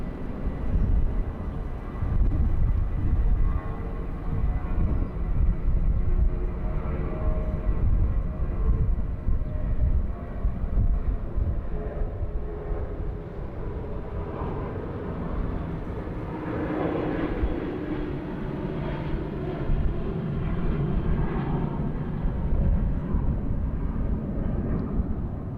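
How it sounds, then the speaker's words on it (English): A Bangkok Airways airliner landing on runway 19 right at Bangkok airport, heard as a steady, broad jet roar that holds at a fairly even level throughout, with no talk over it. "Got another Bangkok Air coming down the runway here."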